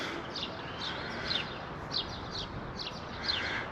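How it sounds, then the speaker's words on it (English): Birds chirp in a park at Parc Torre d'en Pau, Coll d'en Rabassa, Mallorca, short bright calls repeating every second or so over a steady hiss of background noise, fairly distant. "Lots of birds."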